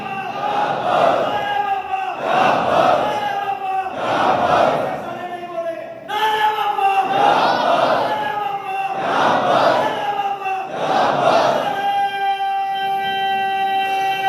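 A large crowd at a majlis chants a religious slogan in loud, rhythmic call-and-response waves, about six surges over fourteen seconds, with one voice leading and a sustained tone holding near the end.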